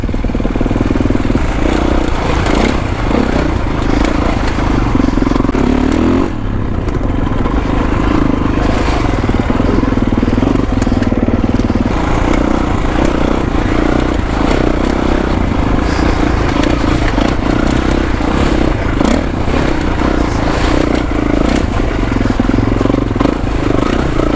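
A 2021 Kawasaki KX450X dirt bike rides downhill on technical single track, its engine loud and close throughout, with steady throttle, rising and falling revs and clattering chassis noise.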